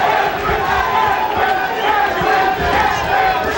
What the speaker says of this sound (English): The crowd now has re-emerged into the fight